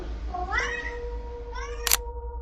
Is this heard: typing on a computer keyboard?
no